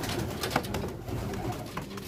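A pigeon coos softly in a nest setting, low throaty murmurs repeating over a steady background hum.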